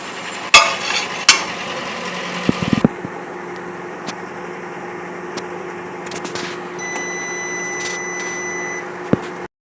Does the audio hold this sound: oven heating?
yes